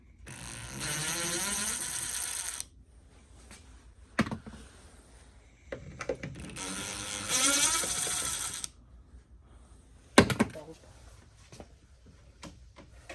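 A power tool buzzes in two sustained bursts while removing 10 mm bolts on a Toyota Prius during a reverse light upgrade, with clanks and sharp knocks in between, close and without talking.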